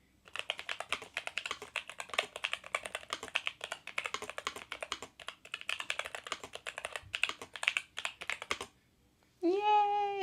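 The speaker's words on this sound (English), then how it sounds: "I really love the sound of this keyboard. This is a Newfie keyboard" Rapid, crisp keystrokes on a NuPhy keyboard fitted in an iPad case, a close, steady clatter of typing that stops abruptly, followed by a short cat meow.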